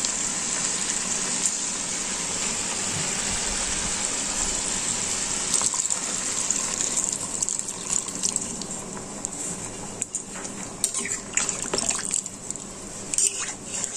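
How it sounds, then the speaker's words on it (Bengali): Water poured into a simmering paneer gravy with potato and papaya, a steady splashing gush running nonstop for about fourteen seconds with a few louder spatters near the end. "এবার গ্রেভির জন্য সামান্য জল দিয়ে দেবো।"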